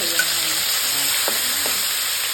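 Onions sautéing in a pan for ginisang pechay with fried egg, a steady close sizzle with a couple of brief scraping stirs of the spoon partway through, and no voices.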